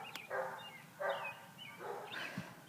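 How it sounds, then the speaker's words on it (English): A dog barks indoors in a few separate moderate woofs spaced about a second apart, with a slight whine between, somewhat distant under a noisy background. "now he got the other one barking"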